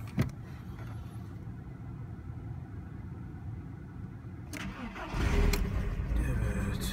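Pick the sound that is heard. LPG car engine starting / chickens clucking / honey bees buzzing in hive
LPG car engine starting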